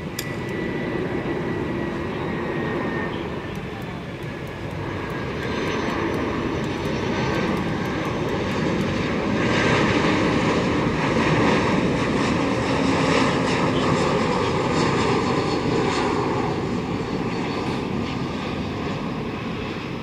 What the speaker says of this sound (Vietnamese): Còn đây là một chiếc Airbus A321 của Bamboo Airways, chiếc máy bay thực hiện chặng bay từ sân bay Liên Khương, Đà Lạt về đến sân bay Tân Sơn Nhất.